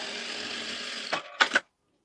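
A sewing machine runs steadily while stitching piping onto blouse sleeve fabric, a continuous close whirring that stops with a few quick mechanical clicks at the end.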